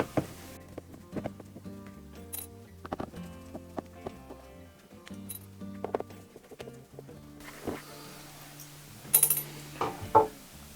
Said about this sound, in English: Mine have screws, so I'll take them out.